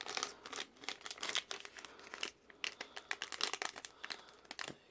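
Crinkly foil wrapper of a Japanese Pokémon card booster pack being torn open by hand, with a stubborn inner lining, giving close, dense crackles and rustles in uneven bursts throughout, no talking.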